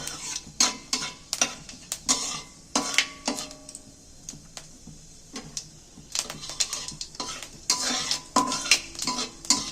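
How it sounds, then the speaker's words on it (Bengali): Whole fennel seeds fry in a spoonful of mustard oil for a dal with spinach, a soft sizzle beneath repeated metal spoon scrapes and clinks against the pan, close up with no talk. "মৌরিটা একটু ভাজা হোক"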